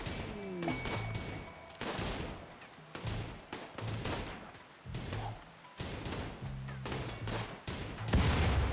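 Turret gunfire crackles in a Rimworld battle, with repeated bursts of sharp shots and thuds in irregular volleys over several seconds, fairly loud and continuous.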